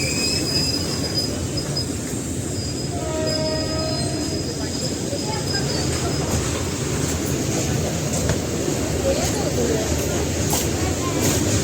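A train rolls steadily past at close range, a continuous rumble with metallic wheel squeal and clatter. Voices can be heard in the background.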